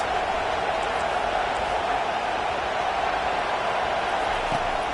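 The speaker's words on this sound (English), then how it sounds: "Listen to this crowd just shaking the girders of this place, trying to help their defense." Stadium crowd at a college football game roaring to back the home defense, a dense, steady wall of distant crowd noise with no breaks.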